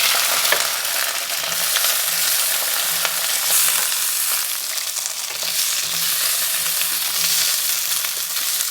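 Sugar snap peas sizzle and crackle steadily in a very hot pan over a high flame, a constant bright hiss close up with faint stirring scrapes and no talk.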